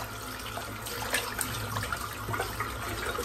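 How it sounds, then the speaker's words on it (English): Running tap water rinses soap out of a shaving brush at a sink, a steady broadband splashing rush that holds at a moderate level for the whole stretch with no talk. "Just going to rinse the soap out now."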